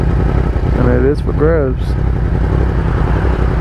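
A 2020 Yamaha R1 with an Austin Racing GP1R exhaust idles with a steady, deep, even burble throughout, while someone talks over it.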